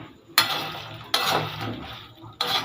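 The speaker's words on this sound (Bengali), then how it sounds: "এবার আমি এই চিকেনের পিসগুলো দিয়ে দেবো, হালকা হাতে নাড়াচাড়া করে নেব।" Chicken pieces stirred in a pan with garlic and curry leaves, heard as three sharp scraping stirs, each followed by a sizzling rush that slowly fades.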